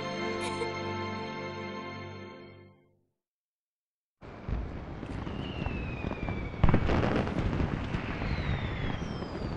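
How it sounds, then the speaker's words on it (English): Fireworks in the video game Final Fantasy XIII burst and crackle after a sustained musical swell fades to a brief silence, followed by whistling rockets and a sharp loud pop among dense crackling. "I love these fireworks."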